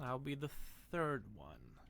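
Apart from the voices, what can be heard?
None of the usual background noises is heard.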